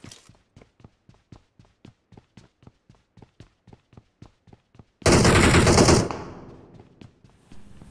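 Gunfire in the mobile shooter BGMI kills a teammate: about twenty evenly spaced single shots crack at a steady pace, then a loud burst of dense noise erupts and fades. No one speaks.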